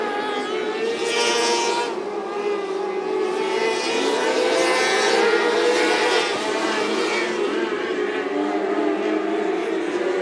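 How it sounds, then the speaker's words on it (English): Micro sprint race cars race around the Macon Speedway dirt oval, a loud, continuous high-pitched engine howl from several cars at full throttle, rising and falling as they pass. "your lead three cars pulling away from the rest of the field."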